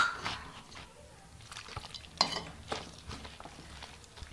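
Cauliflower pakora batter is whisked with water in a bowl, producing soft wet slapping and scraping strokes in an uneven rhythm, with faint clinks of utensil against the bowl.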